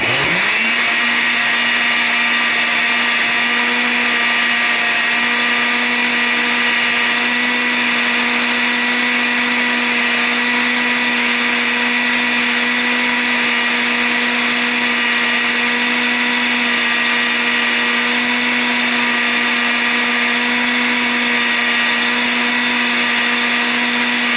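A kitchen blender whirs loudly at a steady pitch, blending oats into oat milk for soap making, running without a break for about twenty-four seconds with no talking.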